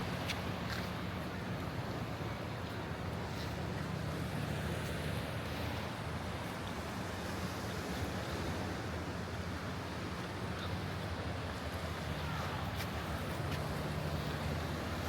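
Steady seaside surf at a Naples-area coast washes continuously, a low broadband rush with wind buffeting the microphone, no voices.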